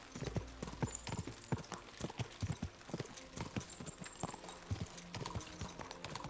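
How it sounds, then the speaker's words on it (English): A war horse gallops in the Kingdom Come: Deliverance II video game, its hooves beating a steady, fast clip-clop rhythm up close and loud, with a brief whinny and no talking over it. "I'm going to take head start too to get the horse going faster."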